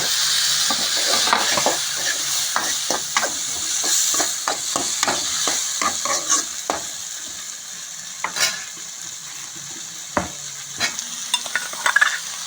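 Tomatoes for a boiled egg fry curry sizzle in a pan while a spoon stirs and scrapes them, giving a soft continuous frying hiss broken by frequent irregular clinks and scraping taps, fairly close.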